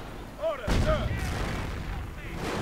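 Mortar fire in a WWII real-time strategy game: a sharp booming launch thump followed by a rumbling tail, heard once amid battlefield noise, under a commentator's voice.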